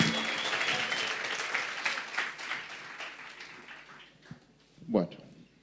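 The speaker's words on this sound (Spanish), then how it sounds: "un aplauso a Claudia" An audience at a congress applauds Claudia, a thick wash of clapping that gradually thins and fades, with a few last claps and a brief voice near the end.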